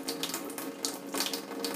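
Alkaline water streams steadily from the primary spout of an Evontis Elite water ionizer into a sink, a soft continuous splashing heard alone.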